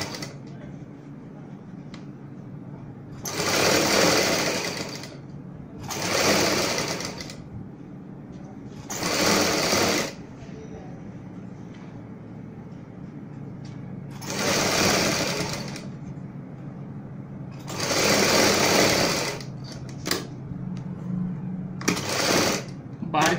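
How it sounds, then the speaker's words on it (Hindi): A sewing machine stitches the back neck of a blouse reinforced with buckram. It runs in about seven loud, close bursts of rapid stitching, separated by quieter pauses where a voice speaks softly. "बाहर की साइड भी हम सिलाई लगा लेते हैं जहां तक हमारी बुकरम होती है।"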